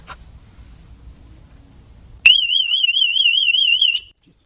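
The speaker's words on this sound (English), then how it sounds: "Just set the alarm off." A BMW 760Li V12's car alarm blares a piercing warbling electronic siren suddenly and loudly for about two seconds, then cuts off after a brief quiet rumble.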